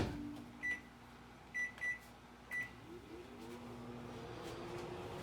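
A microwave oven heats a vinaigrette with a steady low hum, and four short, bright beeps sound near the start.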